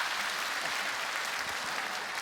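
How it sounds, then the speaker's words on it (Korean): Congregation applauding in a church, a steady wash of many hands clapping at even loudness for a couple of seconds with no voices over it. "여러분들 박수"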